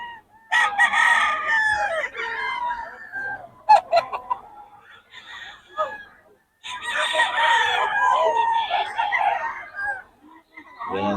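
Roosters and hens at a market day in Bocaue crow and cluck loudly and close by, in repeated overlapping bursts with short pauses between them.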